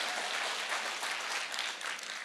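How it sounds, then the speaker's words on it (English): A conference audience breaks into a round of applause, a dense, steady wash of many hands clapping at moderate volume. "Can I ask that we please give Mr. Andrew Kanime a wonderful round of applause?"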